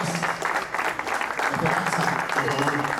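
Audience applause at a Paraguayan tribute ceremony honouring musical artists, a steady dense clapping that fills the room for the full three seconds at moderate loudness.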